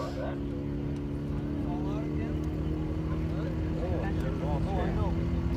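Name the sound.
1965 Corvette with 427 big-block Chevrolet engine launching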